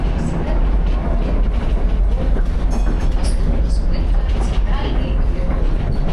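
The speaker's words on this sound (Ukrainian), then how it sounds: "І ось я в Дніпровському трамваї їду." Interior of a moving tram in Dnipro, Ukraine: a loud, continuous rumble of wheels on rails with rattling carriage noise and faint squeals, under quiet talk from passengers.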